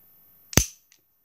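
A single sharp crack from an Elite Force 1911 airsoft pistol, close and loud, followed by a faint click and then silence.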